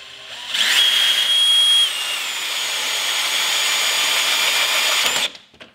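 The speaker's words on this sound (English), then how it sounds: "So I'm using my DeWalt drill with a 1/4 inch carbide drilling bit to drill into this metal" A DeWalt drill fitted with a 1/4 inch carbide bit bores into metal, a loud steady high whine that starts abruptly, shifts pitch slightly as it cuts, and stops after about five seconds.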